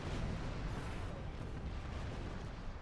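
A deep, rumbling explosion in the space-combat video game Star Trek Online, a heavy, low boom that rolls on as a sustained roar without fading for a few seconds, with no voices.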